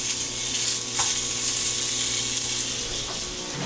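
One onion drops into a lightly oiled frying pan and sizzles in a steady close hiss, with a couple of faint clicks of the pan or utensil, and no talking.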